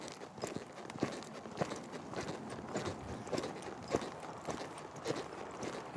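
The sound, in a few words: horse cantering, hooves clip-clopping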